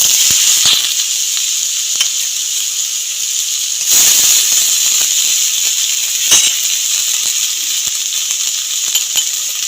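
Ash gourd paste hits hot oil tempered with dried red chilli and whole cumin, a loud, close, continuous sizzle with brief sharper bursts of spitting, heard alone without talk.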